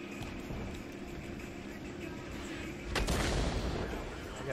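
Gunfire in a shooter video game: a steady rattle of shots runs throughout, then a louder, denser burst of firing breaks out near the end.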